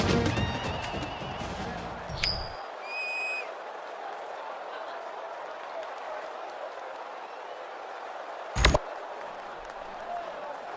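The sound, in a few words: stadium crowd noise before kickoff, NCAA 2014 video game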